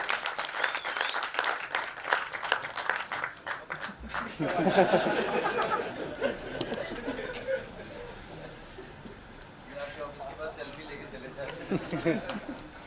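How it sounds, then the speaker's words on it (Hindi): An audience claps loudly for director Rohit Shetty as the guest of honor arrives at a Punjabi cinema evening. The dense applause lasts about four seconds, then gives way to someone talking over scattered chuckles and chatter. "रोहित सर के लिए एक बार जोरदार तालियां हो जाए"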